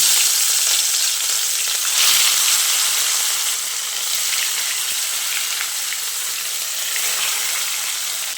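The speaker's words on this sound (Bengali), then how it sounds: "এখন আমি যে মাছগুলোকে ম্যারিনেট করে রেখেছিলাম সেই মাছগুলো এই তেলের মধ্যে একে একে দিয়ে দিচ্ছি।" Marinated rui fish pieces fry in hot oil, a loud, dense, continuous hiss and sizzle held close throughout with faint crackling, like steady rain, and no voices.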